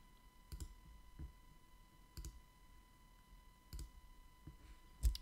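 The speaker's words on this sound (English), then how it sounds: "So I'm just going to click to delete these parts" Mouse clicks while editing in Photoshop: five sharp, isolated clicks spaced about a second or more apart, close and fairly quiet over a steady low hum, with no talking.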